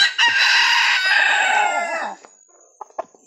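A labuyo jungle fowl rooster in a backyard crows once, loud and close, a long strained call lasting about two seconds, followed by a few short clucks.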